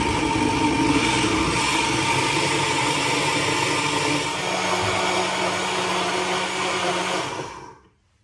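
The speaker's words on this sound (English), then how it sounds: "So there's my fruit in the blender." A blender blending fruit and water whirs loudly and continuously at close range, its dense motor roar holding steady for several seconds before stopping abruptly.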